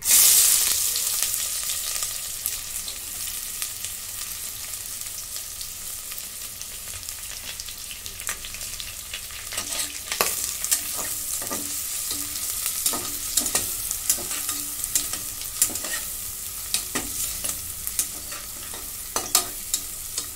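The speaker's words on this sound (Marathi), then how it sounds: "कांदा भाजून घेते." Onion fries in a pan with cinnamon and bay leaf for mutton trotter soup, a steady close sizzle broken by frequent scraping stirs that cluster more densely in the second half, with no talking.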